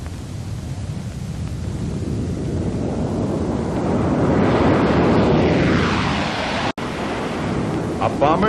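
A Boeing B-47 Stratojet jet bomber roars steadily as it flies, a broad, continuous rush that swells toward the middle and holds loud throughout, with one sudden brief dropout near the end.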